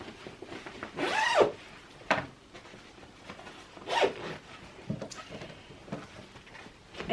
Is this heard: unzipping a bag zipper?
yes